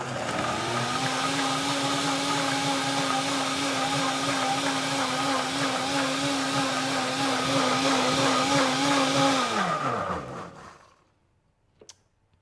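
A Nutribullet blender runs at high speed for about ten seconds, a loud steady motor whine that winds down abruptly, followed by a faint click.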